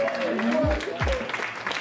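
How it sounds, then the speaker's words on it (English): Audience claps for a performer at an evening show, the applause steady but moderate, mixed with a couple of loud low thumps and some voices. "Can we get another round of applause?"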